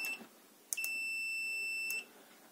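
An Owon D35 multimeter's continuity-test beep: a short blip and then a sustained tone of about a second, clear and close against a quiet background.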